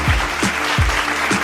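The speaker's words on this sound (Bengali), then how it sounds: "তাদের জন্য একটা জোরে হাততালি দেওয়া যায়।" A group claps in a quiz-show setting after a correct answer, with steady, close applause and a few heavier claps standing out through the brief burst.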